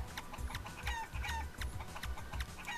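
Repeated clucking and squawking from chickens in the game Realm of the Mad God, a busy string of short calls at even volume with no voices over them.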